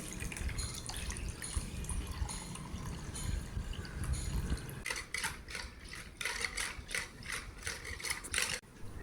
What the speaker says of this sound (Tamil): அதில் 1 லிட்டர் தண்ணி ஊற்றி நல்லா கலந்துக்கலாங்க. மோராக கலந்துக்கலாம்.